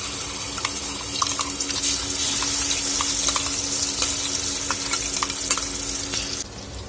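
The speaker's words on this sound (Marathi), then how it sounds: "हा मिक्सरमध्ये वाटून घेतलेला मसाला इथे घालून घेणार आहोत." Ground wet masala hits hot oil in a pan on low heat, giving a loud continuous sizzle with scraping stirring strokes throughout.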